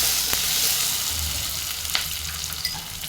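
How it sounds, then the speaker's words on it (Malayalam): Tomatoes and green chillies sautéing in a pan with salt, giving a steady close hiss of frying with a few brief stirring knocks and no talk. "ഇനി ആവശ്യത്തിന് ഉപ്പിട്ട് ഇതിനെ നമുക്കൊന്ന് വഴറ്റിയെടുക്കാം."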